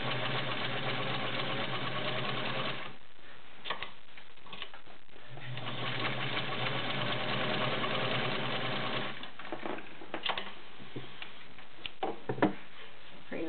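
Vintage Kenmore Model 95 sewing machine zigzag stitching through six layers of Levi's denim: a loud, steady mechanical whir with rapid needle ticking, running in long stretches broken by brief pauses and clicks.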